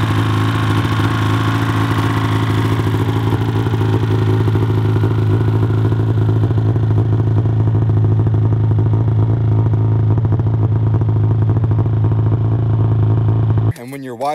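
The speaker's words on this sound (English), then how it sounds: "when you're wide open throttle, it screams, it has that nice two-stroke pitch" A two-stroke snowmobile with an MBRP trail can exhaust idles loudly nearby, giving a steady, deep, buzzing engine note that runs unbroken until a brief disturbance at the end.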